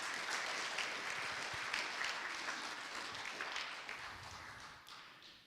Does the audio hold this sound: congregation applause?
yes